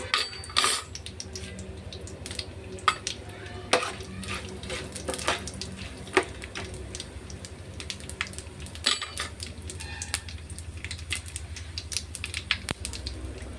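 Biryani spices and ingredients fry in oil and ghee in a pan, giving a steady close sizzle punctuated by frequent clinks and scrapes of a utensil against the vessel.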